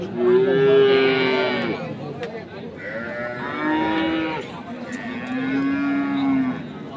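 A dairy cow moos loudly and close by at Ambari cattle market in Dinajpur, giving three long, drawn-out calls with short pauses between them, with no voices over the calls.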